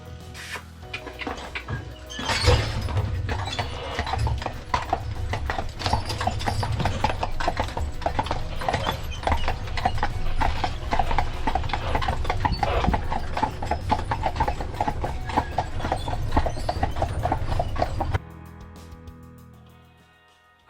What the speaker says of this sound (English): We're on a horse-drawn taxi.